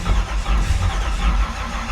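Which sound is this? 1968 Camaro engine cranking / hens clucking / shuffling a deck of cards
1968 Camaro engine cranking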